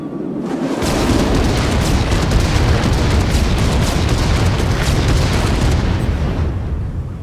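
A bomb explodes in the VR battle royale game Contractors Showdown, bursting in abruptly as a loud, dense roar that rumbles on steadily for several seconds and then fades, with no voices over it.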